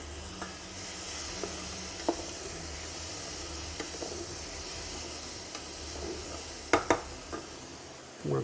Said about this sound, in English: we're going to add onion, and we're going to add our carrots